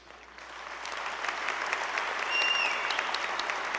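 Applause from the audience at a 2012 university honors convocation builds from quiet to a broad, steady patter of many hands in a large hall, with a faint whistle partway through.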